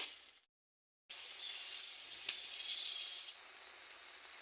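Hand-ground spices fry in a pan with a soft, steady sizzle and crackle that cuts out briefly near the start, then returns with an occasional louder pop.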